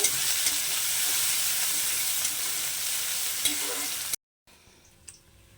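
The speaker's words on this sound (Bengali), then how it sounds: "ওদিকে তো পেঁয়াজটা ভাজা হচ্ছে" Onions sizzle loudly and steadily in hot oil in a pan for several seconds, frying until reddish, then the sound cuts out abruptly, leaving quiet room noise.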